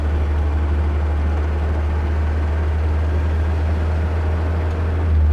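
A 1954 Sunbeam Alpine drives in second gear, its engine giving a steady, loud low drone with road and wind rush and no clear change in pitch.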